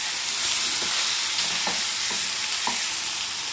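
Chopped ripe banana pieces sauté in a pan with no oil, giving a steady close sizzle with a few soft scraping stirs, and no voices.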